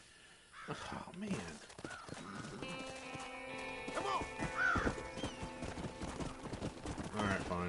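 In Red Dead Redemption, a horse whinnies and its hooves clop in an uneven rhythm, with steady game music, other game sounds and someone speaking briefly over it.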